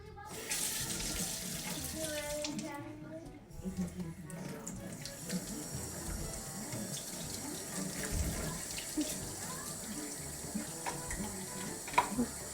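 A kitchen or bathroom tap runs steadily into a sink while a child scrubs, a constant close splashing stream that briefly cuts out early on, with an adult's voice heard over it.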